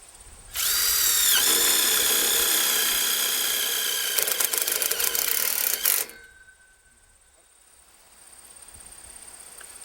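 Power drill driving screws into metal C-channel along the top of an arch, spaced about a foot apart; one loud sustained whirring run of about five seconds with rattling as the screw seats, then the motor stops.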